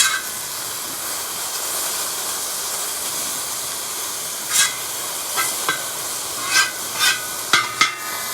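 Green beans and carrots stir-frying in a ripping hot cowboy wok, a steady hissing sizzle that runs throughout, joined near the end by several short scrapes and taps from the utensil against the wok.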